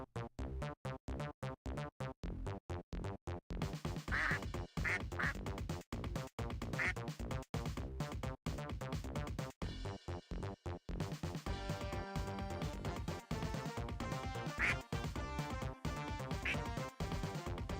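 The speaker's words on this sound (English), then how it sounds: "I forgot about the ducks." Ducks quack steadily for a long stretch, a dense and continuous run of calls with brief breaks, loud and close with nothing else over it.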